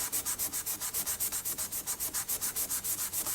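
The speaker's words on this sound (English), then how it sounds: "let's have a bit of a Scotch Brite on that" A Scotch-Brite abrasive pad is scrubbed back and forth along a handmade knife blade, making about twenty rapid, evenly spaced rasping strokes, close and steady, with no one talking.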